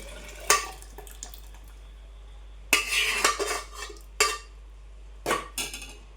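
Dissolved lentils are poured into a sambar pot of cooked vegetables, with a few short wet splashing bursts and metallic clinks of a utensil against the pot. The sound is close, and no one talks.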